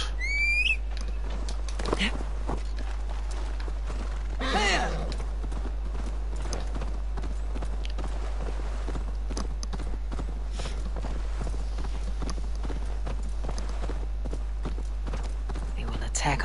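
Horse hooves clip-clop in a quick, steady rhythm in Assassin's Creed Valhalla, close and continuous, with a brief whistle-like call near the start and a short rising cry a few seconds in.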